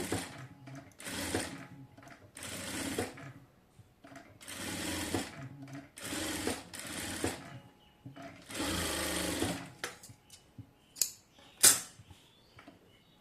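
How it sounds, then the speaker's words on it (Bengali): Sewing machine stitching a designer baby frock, running in several close, steady bursts separated by brief pauses, with a few small clicks and handling sounds near the end. "তো এখন হচ্ছে এইটিকে আমি একদম সেলাই করে হচ্ছে ফিক্সড করে দেব।"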